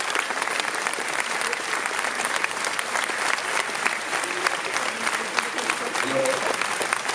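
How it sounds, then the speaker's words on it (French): A conference audience breaks into sustained, dense applause that fills the room evenly for several seconds, with no pauses between the claps. "On peut l'applaudir beaucoup."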